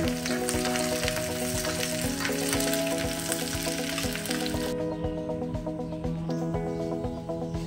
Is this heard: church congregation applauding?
no